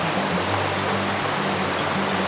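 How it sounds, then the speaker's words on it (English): A waterfall pours down in a constant, dense roar of rushing water, loud and close, with a steady low rumble underneath and no talking. "there's a waterfall on the top of this shot, and the water is flowing down towards the foreground object"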